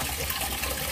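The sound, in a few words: water poured into pan with soaked pork tapa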